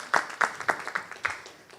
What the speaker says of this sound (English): I think we need to give Safaricom Business a round of applause.